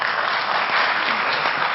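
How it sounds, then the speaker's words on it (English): A town meeting audience claps in a hall, a dense, steady round of applause filling the whole moment. "I don't want to get into clapping stuff, folks, because it just distracts"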